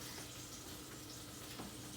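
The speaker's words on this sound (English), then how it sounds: "I have some onions frying in some olive oil" Onions frying in olive oil for a basic tomato sauce give off a steady, dense sizzle that holds at an even level throughout, with a faint clatter of stirring and no voices.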